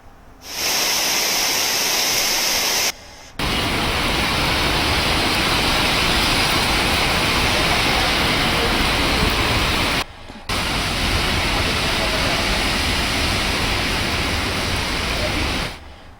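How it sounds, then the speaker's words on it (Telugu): Heavy rain pours over Hyderabad streets in a steady, dense hiss, loud and close, continuing throughout with two brief dropouts. "భారీ వర్షం కురుస్తుంది"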